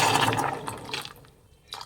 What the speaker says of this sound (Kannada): ನೀರು ಹಾಕ್ಕೊತಾ ಇದ್ದೀನಿ